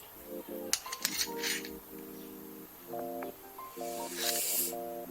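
A wrench turns a thread tap inside a bicycle fork steerer tube, giving repeated short metallic clicks and ratcheting scrapes in bursts, close and fairly quiet.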